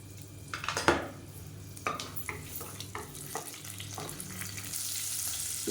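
Whole spices, cinnamon bark and cumin, fry in oil in a pot as the base for a mutton rib bone soup, with a continuous sizzle and several sharp clinks of a spoon against the pan.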